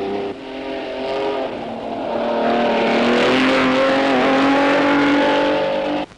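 Rally cars race flat out on a forest stage at the 1973 Southern Cross International Rally, a Datsun chasing a Holden Torana XU1; one loud engine roar climbs steadily in pitch close by, with no voices.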